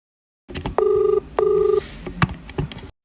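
Telephone keypad tones sound during dialing, with two steady electronic ringback bursts of about half a second each, followed by faint handling clicks and a short low thump.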